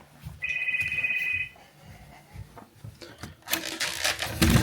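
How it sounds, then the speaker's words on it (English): A hotel room telephone gives a single electronic ring burst early on, then rubbing and handling noises follow as the handset is reached, with louder scraping near the end. "My phone keeps ringing."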